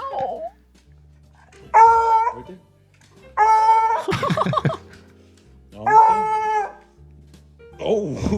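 A dog whimpers and howls in a series of long, drawn-out, pitch-sliding cries with short pauses between them, loud and close, with faint background rustle.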